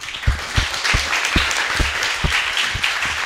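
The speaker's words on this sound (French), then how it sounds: "Ou sinon, on applaudit." An audience claps at a French-language talk, a steady round of applause with distinct close hand claps punctuating the wash throughout.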